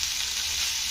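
Rice frying in a hot pan gives a steady, dense sizzle that holds even and close throughout, with no talking.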